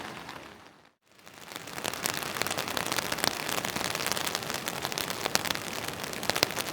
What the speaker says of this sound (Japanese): 雨がね全然止まなくて